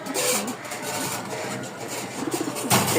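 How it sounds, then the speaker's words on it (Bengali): Pigeons coo softly and repeatedly up close, amid a busy background hum and some shuffling. "খুব বড় বড় কবুতর তো এই হচ্ছে মোট আট পিচ কবুতর"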